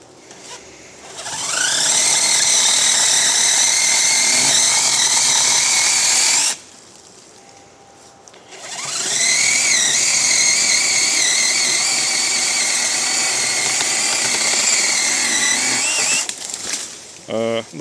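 Battery-powered saw cutting a tree trunk about 13 cm across, dry inside, a loud whining motor rising to a steady pitch in two long bursts separated by a short pause, with a brief final rev and some talk nearby.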